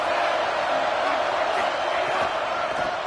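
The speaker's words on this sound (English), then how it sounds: "This crowd trying to make life miserable for this offense." Noisy college football stadium crowd at a Cal versus South Carolina game, a constant loud roar of many voices pressing on the offense, steady and unbroken throughout.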